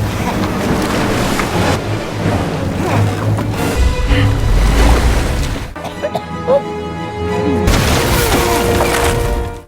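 Big ocean waves crash around a small handmade raft in a film, making a loud, continuous roar of surf and wind. The noise drops briefly in the middle and then surges back at full force.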